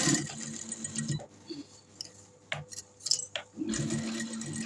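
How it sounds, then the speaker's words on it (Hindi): A sewing machine stitches fabric for a baby shirt, with a steady whirring run, a pause filled by a few light clicks and taps, and then another steady run, close by with no talking. "ये नेक बनाने से पहले हमने ये वाली सिलाई लगानी होती है, इसीलिए ये मैं पहले लगा रही हूँ।"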